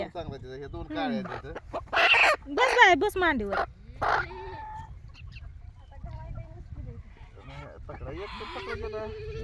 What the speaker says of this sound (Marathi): गावरान कोंबड्या